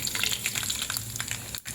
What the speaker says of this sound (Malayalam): കടുക് നല്ല പൊട്ടി വന്നതിന് ശേഷം